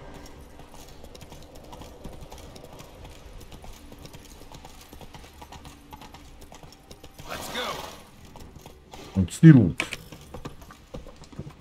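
Horse hooves clip-clopping in The Witcher 3 video game, a steady soft patter under background game sound and someone speaking, with a louder burst of noise near the end.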